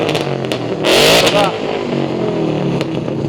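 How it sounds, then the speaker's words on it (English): Classic Ford Mustang Mach 1 engine at an outdoor vintage car show, giving a loud, sharp rev burst that rises and falls within about a second over a rumbling idle, with people talking nearby. "That's the sound of a Mach 1 Mustang."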